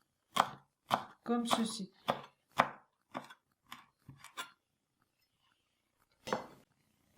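A knife chops sage leaves on a cutting board with about a dozen crisp, close knocks in an irregular rhythm, some in quick bursts, followed by a pause and one last chop while a voice speaks briefly.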